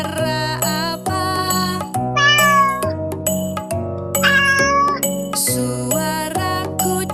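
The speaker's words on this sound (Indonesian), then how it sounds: "Suara kucing." A cat meows twice, clear and close, over a cheerful looping music track.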